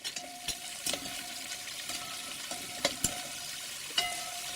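Carrot pieces dropped into onions already frying in a pan and stirred, giving a faint steady sizzle with scattered scrapes and clinks of a utensil, no talking.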